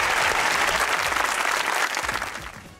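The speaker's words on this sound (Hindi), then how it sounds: "तालियां बजाओ।" Studio audience applause on a Pakistani Geo News comedy talk show, a dense, steady burst of clapping close up that begins to fade toward the end.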